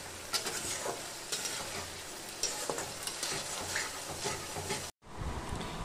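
Chicken frying and being stirred in a pan after releasing its water, a close sizzle under repeated scraping spatula strokes, continuous until a brief cutoff near the end.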